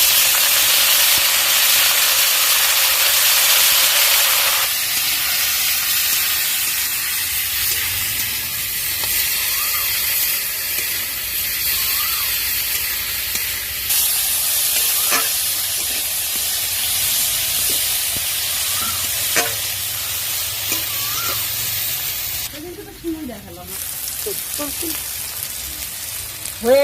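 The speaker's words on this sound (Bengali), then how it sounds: "শাকগুলো দিয়ে দিচ্ছি।" Leafy greens go into a pan of reddened fried potatoes, giving a steady close hiss and sizzle of frying that runs throughout and changes in texture partway, with faint clinks near the end.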